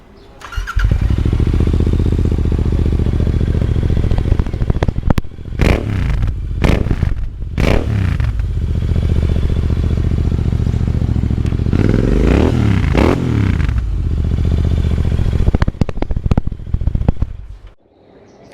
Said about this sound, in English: Why don't you start the bike? We can hear it.